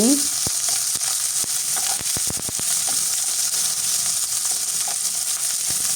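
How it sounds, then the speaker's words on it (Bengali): Onions and green chillies fry in hot oil with a steady hissing sizzle, with occasional scraping and clinks of a utensil stirring in the pan. "পেঁয়াজ কাঁচামরিচ দিয়ে আমি খুব ভালোভাবে ভেজে নিচ্ছি"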